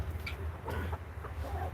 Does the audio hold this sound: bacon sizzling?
no